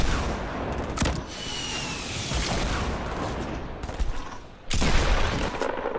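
Gunfire in Fortnite: dense bursts of shots and booms rattle almost continuously, with a brief lull near the end before another loud burst.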